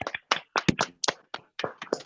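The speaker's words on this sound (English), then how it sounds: "give a big round of applause to my panelists" Participants in an online mental health forum clap for the panelists through unmuted microphones, giving sparse, uneven claps from several sources with brief gaps of silence between them.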